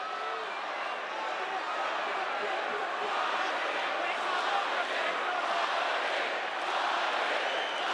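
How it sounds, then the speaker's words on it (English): Boxing arena crowd roaring to urge on Mairis Briedis during a cruiserweight title fight: a dense, sustained wall of cheering and shouting at a steady level throughout, with no clear individual voices standing out. "the crowd here trying to encourage Mairis Briedis with every ounce of energy that they can muster"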